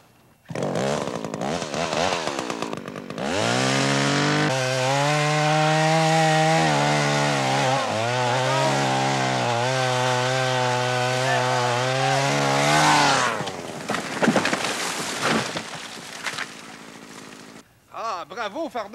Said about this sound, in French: Je disais, Fardoche, que ça en fait du bruit, une scie mécanique, hein?